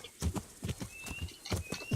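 A horse gallops in the video game Kingdom Come Deliverance, its hooves giving a quick, rhythmic run of clip-clop beats that sound close and fairly quiet. A brief high whistle-like tone rises over the hoofbeats.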